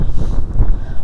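Outdoor wind buffets a camera microphone in a short, low, rumbling gust that thumps unevenly for about a second.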